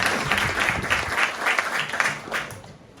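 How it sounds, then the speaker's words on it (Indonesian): An audience of junior high student council members applauds in an indoor session, a dense, even wash of clapping that holds steady and then thins out toward the end. "Terima kasih, tepuk tangan."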